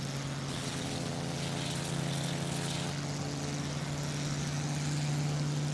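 Steady, droning propeller-engine hum of an iniBuilds Bf-108 Taifun in flight in Microsoft Flight Simulator, with a constant low tone and airy rush holding evenly throughout.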